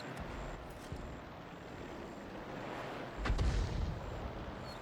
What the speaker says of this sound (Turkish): Bakın atışı yapıyor hemen öbür mermi tekrar yükleniyor